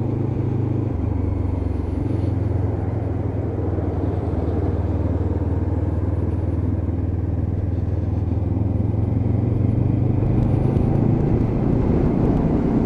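A Lexmoto LXR 380cc motorcycle cruising along a dual carriageway, its engine droning steadily and loudly with constant rumble and wind roar, no talk over it.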